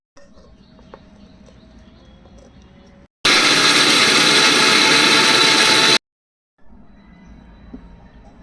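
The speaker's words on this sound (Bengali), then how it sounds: "এখন সবগুলো একসাথে ব্লেন্ডারে ব্লেন্ড করে নিব।" An electric blender whirs loudly and steadily for about three seconds as it purées coriander leaves with soybean oil into a green mayonnaise. Quieter kitchen room noise comes before and after, and no one speaks.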